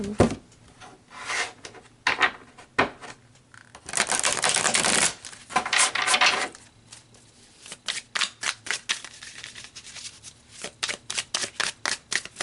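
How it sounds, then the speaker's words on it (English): Tarot cards being shuffled repeatedly, with riffling bursts and quick rhythmic flicks and taps, close by and alone. "I feel like I need to give these guys a shuffle."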